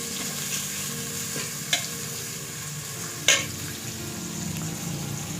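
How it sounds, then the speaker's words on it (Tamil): Thinly sliced onions sauté in oil for Tamil-style chicken dum biryani, a steady soft sizzle with two sharp clinks of a spoon against the pan, close and alone. "நல்லா பொன்னிறம் ஆகிற வரைக்கும் நல்லா வெங்காயத்தை வதக்கி விடணும்."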